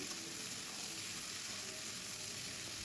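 Chopped onion, a large one cut into small pieces, fries in a pan with a steady, even sizzle that holds for the whole stretch. No talking, and nothing else breaks in.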